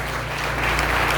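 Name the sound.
church congregation applauding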